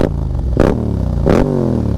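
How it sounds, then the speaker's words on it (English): A Yamaha MT-07 motorcycle with a full Akrapovic exhaust roars up close, with two sharp throttle blips rising over a steady, throaty rumble and no talk. "Now listen to this bike with the full Akrapovic exhaust"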